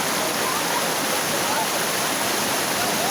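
A steady, dense roar of falling water fills the whole clip, a waterfall heard close by with constant broadband rushing and no breaks.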